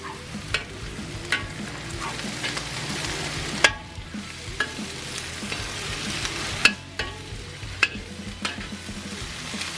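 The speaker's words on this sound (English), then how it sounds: "I like onions, so I'm putting onions in my wok. I'm going to stir them around." Onions stir-frying in a wok for moo goo gai pan, a steady sizzle with scraping stirs at intervals, close and moderately loud with no talking.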